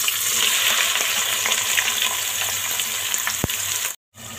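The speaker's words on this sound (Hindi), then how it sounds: "तेल गर्म हो गया है, इसमें हम प्याज शामिल करेंगे।" Onions sizzle and fry in hot oil for a mutton do pyaza, making a steady close crackling hiss that runs throughout, with a sharp click near the end and a brief silence just before it finishes.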